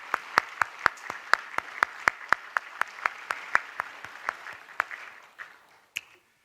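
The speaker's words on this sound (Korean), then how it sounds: "우리 서로에게 한번 감사하는 우리 박수 한번 쳐줄까요?" A church congregation claps during a Sunday worship service, producing a steady, evenly spaced series of about twenty sharp claps that slow and fade toward the end, fairly faint and without talk.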